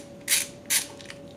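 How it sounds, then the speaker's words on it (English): Two short ratcheting creaks from a flathead screwdriver turning out a black screw on a Virtual Boy tripod kit, spaced about half a second apart, faint and close against a steady hum. "you will need to remove the black screw with a flathead screwdriver"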